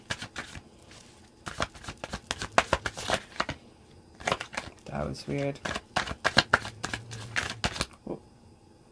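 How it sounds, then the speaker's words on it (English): A deck of tarot cards is riffled and shuffled close by in quick, rapid bursts separated by short pauses, and a voice speaks briefly between the bursts. "Every single time I shuffled, it was like stuck to my thumb"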